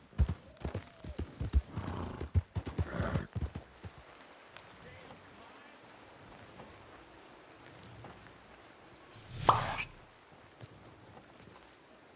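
Horses in the Red Dead Redemption game clip-clop over ground while a rain-like hiss runs underneath, with one louder whinny or snort standing out late and players talking over the early part.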